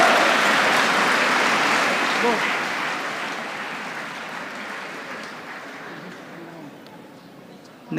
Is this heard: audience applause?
yes